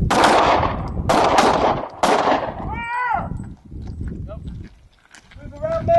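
Several loud, close gunshots crack in quick succession during a shooting stress drill, followed by quieter shots and a voice calling out between them.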